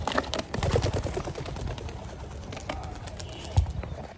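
A flurry of wing flaps and rustling from racing pigeons being released and taking off nearby, with a couple of sharper bursts and steady outdoor background noise.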